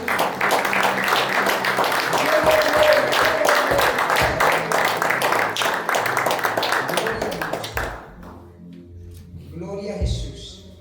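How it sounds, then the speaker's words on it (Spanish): Loud, dense clapping rises from a church congregation praising the Lord, with voices and shouts mixed in before the applause thins out and stops near the end. "Vamos a darle un aplauso bien fuerte al Señor"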